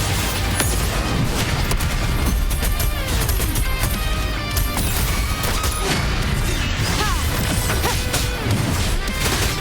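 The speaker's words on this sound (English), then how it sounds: "Another mortar thrown at us." Mortar shells explode in the video game Wuthering Waves: repeated heavy crashes and booms pile up densely over a loud, constant wash of battle noise and music, with no pause between impacts.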